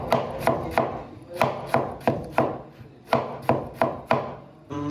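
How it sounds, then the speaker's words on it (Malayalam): Vegetables for a salad are chopped on a board with a knife, giving about a dozen sharp, evenly spaced thuds at a slow, steady pace, close and loud, with no voices. "പയ്യെ അരിഞ്ഞുകൊണ്ടിരിക്കുവാണ്. സാലഡിന് വേണ്ടിയാണ് കേട്ടോ ഇത് ചെയ്യുന്നത്."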